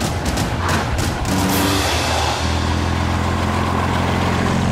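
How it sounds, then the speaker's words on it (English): A big, deep engine rumbles and revs loudly up close, a throaty low drone that rises in bursts then settles into a heavy, steady roar. "So what happens when you stick a Spitfire engine in an old Rover?"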